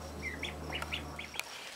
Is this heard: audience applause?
no